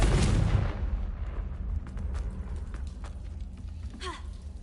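A fiery Confringo spell blast in Hogwarts Legacy opens with a loud, deep boom that rolls away into a rumbling tail, followed by lighter crackles and a brief rising magical shimmer near the end.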